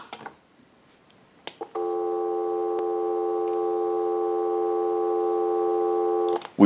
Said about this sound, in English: Now what we want to do is go ahead and give you some dial tone